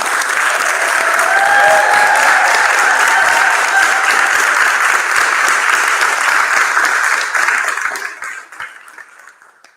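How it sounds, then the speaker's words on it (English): Audience at a 5th grade promotion ceremony gives a loud, dense round of applause that holds steady for several seconds before thinning out and fading away. "Can we give a huge round of applause for our students?"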